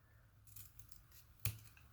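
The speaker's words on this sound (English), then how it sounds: "I would just cut it with my scissors" Scissors cut through craft paper in a quiet room, giving a few soft snips followed by one sharp, close closing snap, with no talking.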